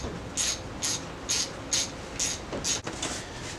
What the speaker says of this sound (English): So we're gonna grab a 10 and we're gonna start tightening.